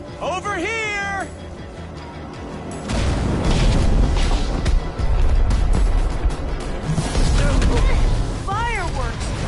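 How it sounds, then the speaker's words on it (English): Fireworks bursting in the Minecraft: Story Mode game during a fight with the Wither Storm, a loud, dense run of crackling explosions and rumbling booms under a steady action score, with voiced cat-like meows and short cries before and after. "Fireworks! Good thinking, Lucas!"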